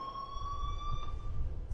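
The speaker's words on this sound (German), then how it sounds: "please turn off that alarm since that's your job" An alarm rings in the video game Life is Strange as a continuous high electronic tone, steady and moderately faint over a low background rumble, with no talk.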